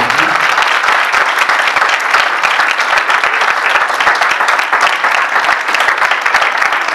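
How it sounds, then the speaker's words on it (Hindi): Loud, dense applause from a church congregation during an Urdu-language sermon, steady and sustained throughout with no break, close and filling the room. "यीशु मसीह के लिए जोरदार तालियां."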